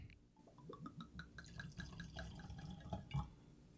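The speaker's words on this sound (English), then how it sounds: "All right, I've got my glass poured." Jameson Black Barrel whiskey poured from the bottle into a glass, a close liquid trickle with dripping splashes lasting a few seconds and ending in a slightly louder clink near the end.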